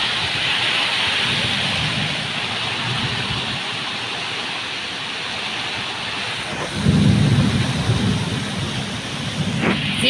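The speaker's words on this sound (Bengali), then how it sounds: "বৃষ্টি পড়তে লেগে গেছে বুঝতে পারছো" Heavy steady rain pours throughout, with a low rumble of thunder building in the latter part; no talking.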